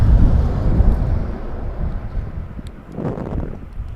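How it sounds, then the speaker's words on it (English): Strong wind buffets a microphone at Toronto Pearson Airport, a loud, rough roar that swells and eases over several seconds, with a fresh gust near the end. "Still windy."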